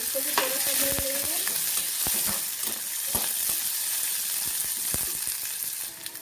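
Onions frying in oil in a pan for a brinjal and potato masala make a steady close sizzle, punctuated by repeated sharp scrapes and taps of a spatula stirring, with no voices.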